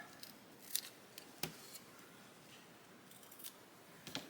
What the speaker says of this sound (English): Now I will grab some scissors.